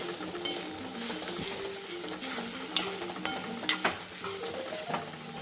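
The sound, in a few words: stirring chilli flakes, Kashmiri chilli powder and salt in pan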